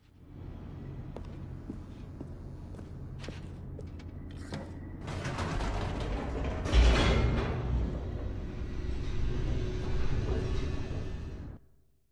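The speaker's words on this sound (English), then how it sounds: "The elevator raced downward, plummeting towards an unknown fate." An elevator descends in The Stanley Parable: a low, steady mechanical rumble with creaks and clanks, swelling to a louder boom midway and holding until it cuts off at the end, with no voices.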